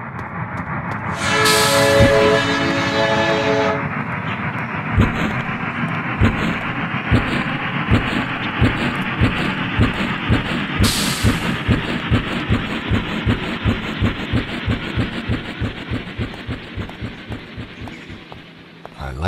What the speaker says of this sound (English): Hurry up, the train's about to leave.